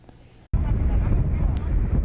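A strong northeast monsoon gale with force-eight gusts buffets a fishing harbour, a loud roaring rush of wind slamming the microphone after a brief quieter moment, continuing unbroken to the end.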